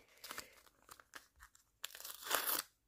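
A paper surprise packet is opened by hand, crinkling and crackling with several sharp tearing bursts, the loudest rip near the end, up close and with no talking.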